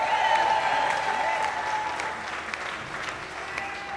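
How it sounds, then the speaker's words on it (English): A festival crowd applauds guitarist Jimmy Meyer at an outdoor Musikfest stage, steady dense clapping mixed with a sustained tone and crowd noise, holding at an even level throughout. "Let's have a round of applause for Mr."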